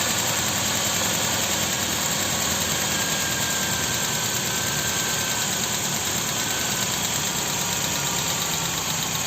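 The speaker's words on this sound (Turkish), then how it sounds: "sesinden de anlayacağınız üzere aracımızın rolantisi düşüyor" A carbureted car engine with LPG idles with a steady, loud, rough rumble and mechanical hum as its idle speed is lowered, running continuously without pause.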